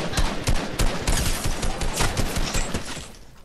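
Rapid hunter rifle gunfire in the Fortnite video game, a loud, dense burst of repeated shots cracking close by for about three seconds before tapering off.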